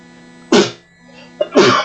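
Two sharp sneezes from a character in World of Warcraft, each a sudden loud burst about a second apart, with a short breathy lead-in before the second one.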